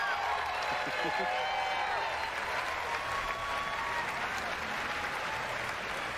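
Pumped-in crowd applause fills the Bethesda E3 2019 conference hall: steady, dense clapping with a few cheers, continuous and fairly distant for the whole stretch.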